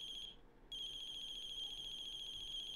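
A phone rings in a video game with a steady, repeating electronic tone that cuts out briefly near the start and then resumes, quiet and continuous, with no voices.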